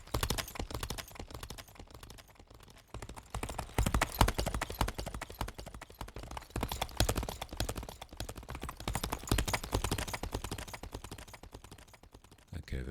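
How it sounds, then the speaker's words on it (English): Horse hoof clip-clop in a spatialized synthesis demo, a rapid steady stream of hollow clopping strikes with trailing echoes wrapping around, continuous for about thirteen seconds. "the echo will occur where the horse was when it made that particular sound"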